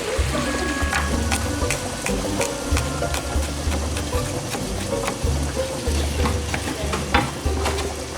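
Onions frying in a pan while being stirred, a continuous loud sizzle with scraping stir strokes and occasional pops, close and steady.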